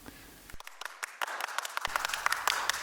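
An audience claps at the end of a concert or theatre play, starting with a few scattered claps and swelling into steady, moderately loud applause.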